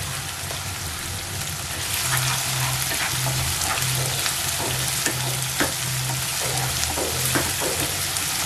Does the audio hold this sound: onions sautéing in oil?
yes